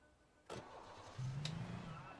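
A car engine starting in the video game Alan Wake: a sharp door-like clunk, then the engine catching and settling into a low steady hum, fairly quiet and heard alone.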